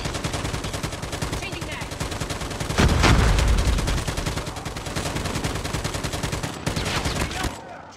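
Rapid automatic gunfire with a heavy blast near the three-second mark from a Call of Duty Mobile match, loud and continuous with bursts of shots throughout.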